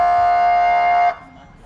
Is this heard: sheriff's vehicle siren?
yes